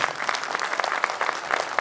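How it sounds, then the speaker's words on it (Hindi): A gathering of people applauds with brisk, dense clapping, heard close and moderately loud throughout the short stretch. "इसके लिए बड़ा जोरदार हाथ ताली हो गया"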